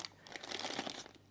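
A Hamilton Jazzmaster Thinline watch is unwrapped from a plastic bag, a close, continuous crinkling and rustling of thin plastic that swells briefly, with no voices heard.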